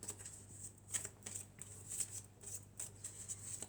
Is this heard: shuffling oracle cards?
yes